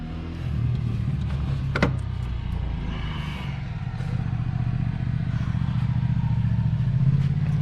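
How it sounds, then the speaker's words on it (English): A motorbike goes past on the road outside a garage during a Volvo S60 power steering repair, a steady engine drone that builds gradually with no one speaking. "bike passing by"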